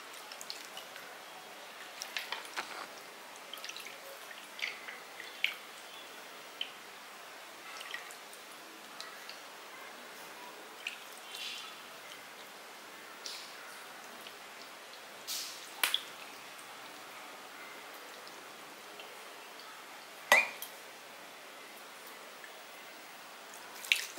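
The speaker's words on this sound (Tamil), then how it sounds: "இப்போ இதில் வந்து நம்ம தண்ணி தெளிச்சுக்கலாம். தண்ணி வந்து ஊற்றாதீங்க, தெளிச்சு விடுங்க." Water sprinkled by hand over manure-enriched soil prepared for sprouting mulaipari seedlings, heard as scattered soft drips and light patters, quiet and intermittent, with a few sharper splashes.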